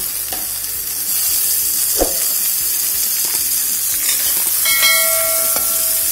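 Tomatoes go into a hot pan of sizzling beef stir-fry, making a loud, steady frying hiss with a few clanks of the utensils and a short high ringing tone near the end.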